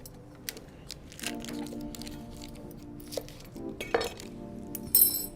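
A cooking pan is pulled out to melt butter during a chicken quesadilla grilling session, with light metallic clinks, clanks and rattles of cookware close by, then a brief sharper clatter.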